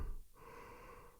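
A single audible inhale like a yawn, taken during a throat relaxation exercise with relaxed jaws; a brief, breathy gasp heard close and fairly quiet, alone.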